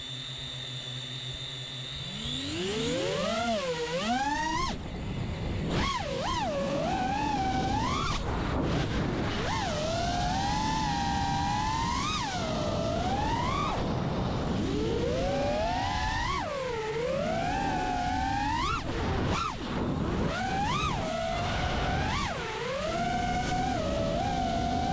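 FPV freestyle drone carrying a GoPro Hero 11 Black Mini on its first flight, its motors whining in repeated rising and falling sweeps as the throttle surges and drops, close and sustained.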